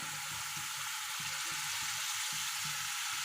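Spice masala for a tinda (round gourd) curry roasts in oil with a constant, dense sizzle, while soft, regular thumps from stirring repeat about twice a second.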